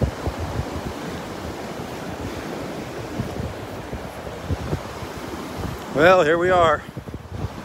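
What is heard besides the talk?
wind blowing on a beach at Wiggins Pass, Florida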